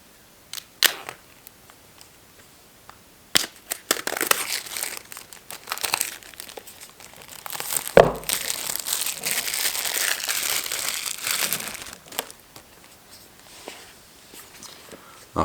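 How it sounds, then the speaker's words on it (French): Apple AirPods Pro packaging is handled close up in an ASMR setting: sharp plastic tearing, crinkling film and cardboard taps come in bursts, louder in the middle stretch and quiet between. "on va déballer les AirPods Pro."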